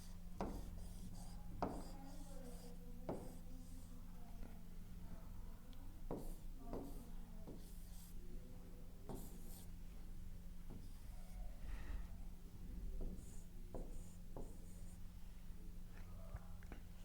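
A pen drawing a heart diagram on paper, with short scratchy strokes and faint rubbing scattered through a steady low hum, close and quiet.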